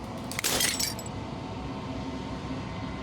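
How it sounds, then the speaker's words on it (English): Glass shatters in the video game Slay the Princess, a sharp bright crash and tinkle of breaking fragments early on, then a low ambient drone continuing alone. "As a final fragment of glass shatters"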